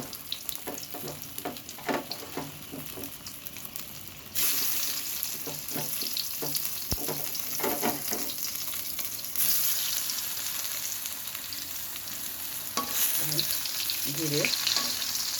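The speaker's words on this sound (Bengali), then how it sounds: "জাল দিয়ে ভাজতে হবে যাতে এই তেলে ভাজা হয়" Eggplant slices frying in oil in a pan over medium-low heat, a steady close sizzle that grows louder partway through, with occasional clinks and scraping of a utensil stirring.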